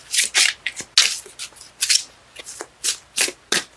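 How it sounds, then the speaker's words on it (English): Bursts of crisp, papery riffling repeat at a quick, uneven pace as a deck of cards is shuffled close by, with short gaps between. "Cards let me know when they're done shuffling."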